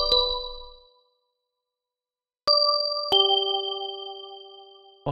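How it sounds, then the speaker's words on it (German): Bell-like tones from the Helm synthesizer in Bitwig ring out as three separate struck notes, each a bright clean ding that sustains and slowly fades, with a brief silence between the first and second. "kann den einfach dann so ein bisschen Glocken spielen lassen"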